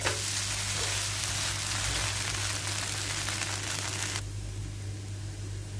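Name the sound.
dosa frying in oil on a pan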